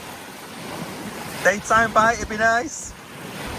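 Waves lap steadily on a lake shore in France under gusty wind, a continuous soft wash while someone speaks briefly close to the microphone.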